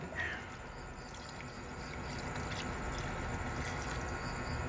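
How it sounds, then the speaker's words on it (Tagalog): Water is poured into a pot of blue marlin sinigang, giving a steady close liquid rush and splash that holds for several seconds with no talk. "Ngayon, lagyan natin guys ng tubig."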